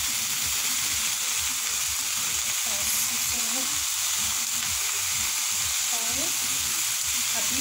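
Chicken and vegetables stir-fry in seasoning oil with a loud, steady sizzle throughout, and soft scrapes and stirring knocks rise above the hiss.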